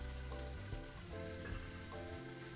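Chopped chicken frying in a pan, a soft continuous sizzle with a low background hum and faint tonal sounds layered underneath, no talk.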